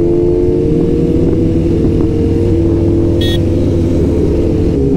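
Superbikes, a BMW M1000RR among them, rumble steadily on the road with loud aftermarket exhausts, giving a sustained, close engine drone with a brief high-pitched whine partway through.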